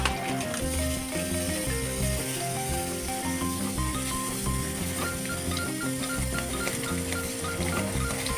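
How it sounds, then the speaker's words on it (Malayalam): Semolina stirred into a pan for rava upma with curry leaves and turmeric, a steady close sizzle mixed with scraping and clinking of the spoon against the pan, continuous throughout with no talking. "റവ കുറേശ്ശെ ഇട്ട് ഇളക്കണം"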